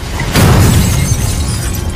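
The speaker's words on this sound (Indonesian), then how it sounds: "Sayangnya toplesnya telah pecah." A glass jar shatters in a film scene, a sudden loud burst of breaking that starts abruptly and trails into a scattered, lingering crash.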